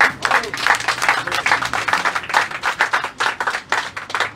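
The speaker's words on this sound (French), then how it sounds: "Et nous applaudissons." Striking workers clap together after a signed agreement ends their strike, a dense, ragged burst of hand claps at steady loudness throughout, with voices mixed in underneath.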